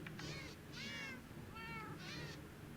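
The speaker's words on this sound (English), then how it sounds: "That is a wither cat." Four distinct wither cat meows from a Minecraft modded game, spaced about half a second apart, each a wavering rising-and-falling cry over a steady low hum of background game noise.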